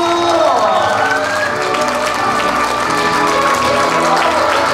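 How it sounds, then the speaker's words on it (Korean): An audience at a Korean year-end party applauds and cheers for a singer, a dense crowd roar mixed with tonal music and voices throughout. "이문남 가수 박수!"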